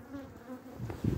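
Honey bees crawl and work over a hive frame holding some honey during a February colony check, their steady close buzzing hum droning throughout with a few louder bursts near the end, no voices.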